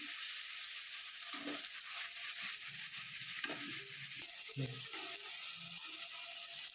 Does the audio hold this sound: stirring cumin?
yes